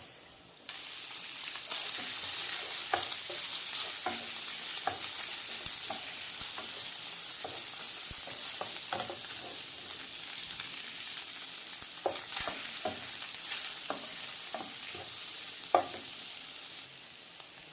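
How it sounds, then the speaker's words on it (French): Garlic, surimi and shrimp frying in olive oil in a pan make a constant close sizzle, broken by scattered scrapes and taps of stirring throughout, with no one speaking. "j'ai mis un petit peu d'huile d'olive. Je fais revenir un petit peu l'ail. Je rajoute le surimi et crevettes."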